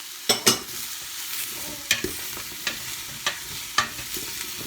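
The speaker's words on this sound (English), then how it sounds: "Now we're going into the carrots and parsnips. And again, carry on with the stirring." Carrots and parsnips being stirred in a soup pot for homemade vegetable soup, with sharp spoon scrapes and knocks coming at irregular intervals over a soft, steady sizzle, close up and without talking.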